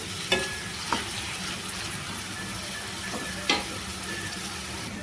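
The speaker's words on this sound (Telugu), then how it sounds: "పూర్తిగా ఫ్రై అయితేనే గ్రేవీ అనేది మనకు చిక్కగా వస్తుందన్నమాట ఒక రెండు నిమిషాలు ఇలాగే ఫ్రై చేసుకోవాలి" Steady crackling sizzle of onions frying in a pan, with a few soft clinks of a utensil stirring; no voices.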